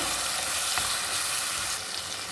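Ground tomato paste sautéing in hot oil for a chicken gravy, a steady close sizzle and hiss with a brief stir near the start that eases slightly toward the end.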